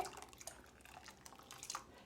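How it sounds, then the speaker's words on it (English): Vinegar poured into warm salted milk for no-rennet cheese, a quiet liquid trickle with faint drips and splashes running steadily throughout, no voices. "I'm going to pour in my vinegar"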